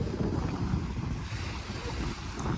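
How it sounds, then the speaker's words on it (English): Strong seaside wind at high tide buffeting the microphone in heavy low rumbling gusts, with a wash of surf behind it, loud and continuous with no talk. "It's extra windy today, and this is high tide."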